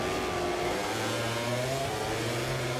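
A MotoGP 24 race start in Valencia, with a pack of racing motorcycle engines held at high revs, droning steadily and densely with rising and falling pitch lines, loud and continuous.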